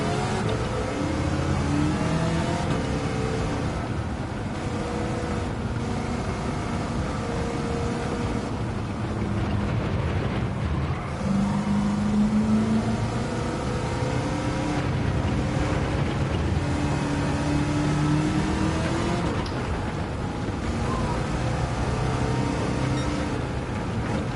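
A Plymouth Superbird with a swapped engine in Gran Turismo 7 revs hard through repeated rising and falling engine notes while its tires break loose, loud and continuous with no voices.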